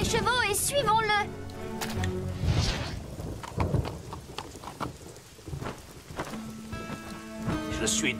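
Rain and rolling thunder during a storm in an animated horse series, steady rainfall with low rumbles, mixed with voices and musical tones.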